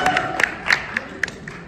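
Brief bursts of clapping and cheering from a crowd at a lively haldi celebration with dance and games, several sharp claps and shouts spread over under two seconds amid a noisy room.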